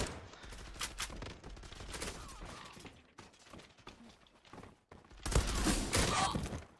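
Gunfire in a video game crackles in repeated bursts of rapid shots throughout, with a louder, denser volley near the end.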